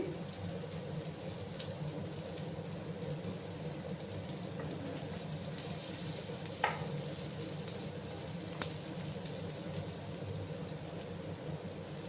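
Onions sizzle in hot oil in a pan for a fish curry with ridge gourd and potato, a constant close hiss with a couple of sharp clinks from stirring, no voices.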